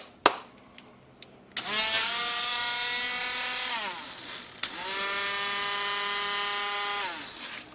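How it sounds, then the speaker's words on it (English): A small high-speed Dremel rotary tool whirs up to a steady whine, winds down, then starts again for a second sustained run, preceded by a few clicks. "here's my little Dremel tool"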